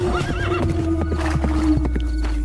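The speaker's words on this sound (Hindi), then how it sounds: "घोड़े पर सवार होकर ज्ञानचंद दूसरे राज्य की सीमा में चला गया" A horse whinnies with a rising, wavering call, then its hooves clip-clop in an uneven trot over a steady low rumble, close and clear with no talk.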